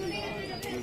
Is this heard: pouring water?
no